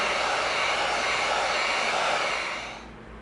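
A heat gun heating EVA foam so it can be bent, blowing with a steady, close, airy roar that fades out near the end.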